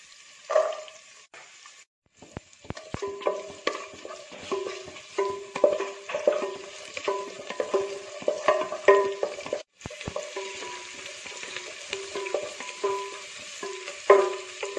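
Shallots frying in oil while a spoon scrapes and clinks against the pan in repeated strokes, over a steady close sizzle with a short silent gap near the start.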